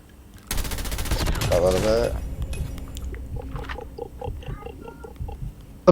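A rapid burst of automatic gunfire from a video game, followed by a voice speaking over quieter game sounds.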